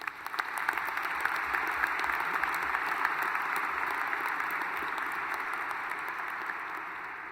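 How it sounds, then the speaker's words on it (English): An audience applauding at the 2014 Wharton undergraduate graduation ceremony, steady dense clapping throughout, even and sustained at moderate level with no voices. "Please join me in applauding this year's recipients."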